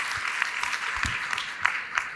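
A summit audience claps for the panelists after a finance discussion, a brief steady patter of many hands with a few sharper individual claps standing out.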